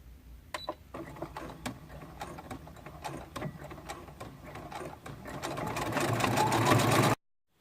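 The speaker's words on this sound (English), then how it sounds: "I'm going to start stitching over here, and then I'm just going to stitch all the way around" Stitching around a bias tape casing, a sewing machine whirs in a rhythmic series of needle strokes that gradually speed up and grow louder before stopping abruptly.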